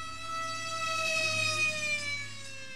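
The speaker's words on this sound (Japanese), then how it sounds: "どこからか消防車のサイレンの音がする。" A fire engine siren in the horror video game Apathy Narugami Gakuen, a steady sustained electronic wail with a rich stack of tones, moderately loud, slightly swelling and fading over a few seconds with no voices.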